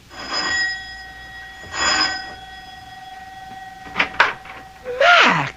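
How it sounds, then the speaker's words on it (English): A doorbell in a radio drama rings as two electronic chime bursts with sustained ringing tones, followed by brief rustles and a short voice sound near the end. "Mac presses the doorbell at his house"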